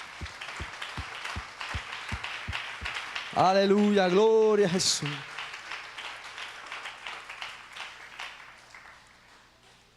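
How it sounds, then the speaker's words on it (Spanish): A church congregation claps in a steady rhythm, then a preacher's loud voice calls out over them. The clapping swells into a dense burst of applause that slowly fades away. "Ríndale ese aplauso al Señor."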